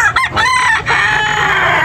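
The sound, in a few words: rooster crowing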